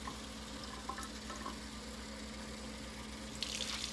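Water poured into a container as the first step of a curtido brine of water and apple cider vinegar for Salvadoran slaw, a steady soft splashing stream with a brighter gush near the end.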